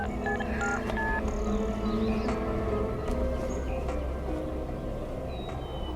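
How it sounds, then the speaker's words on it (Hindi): Short electronic tones beep in sequence like a phone number being dialed, faint against a low background hum and some voices. "फोन करती हूँ।"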